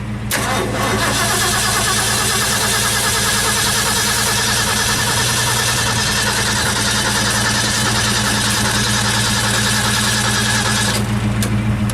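Engine with a 2-barrel carburetor cranking continuously without catching, flooded with fuel; the loud, steady starter churn runs almost the whole time, close by, and stops near the end.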